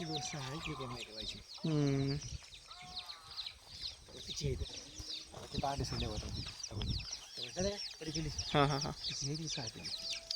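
Hens cluck and squawk repeatedly nearby, with rising calls and short bursts, mixed with people talking in the background.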